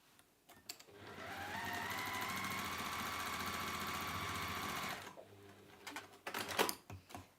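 Sewing machine stitching fabric: a fast, even mechanical whir runs for about four seconds after a brief start, then stops, followed by a few soft handling clicks and rustles.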